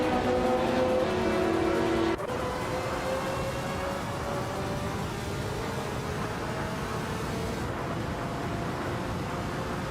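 The engine of a 1983 Lancia LC1 race car drones steadily in a racing game. Its pitch climbs and shifts through gears, and a layer of other car noise runs continuously underneath, with no talking.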